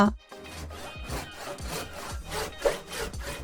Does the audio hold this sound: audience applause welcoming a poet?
no